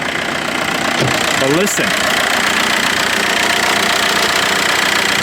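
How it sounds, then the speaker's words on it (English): A diesel Volkswagen Jetta idles with a steady, close, rumbling clatter, and someone speaks briefly over it. "Beautiful, beautiful diesel sound."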